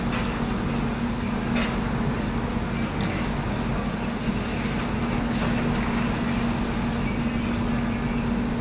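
A demolition machine working through building rubble beside a tall former police station in Blackpool gives a loud, steady engine drone with a constant low hum that runs unbroken from start to finish.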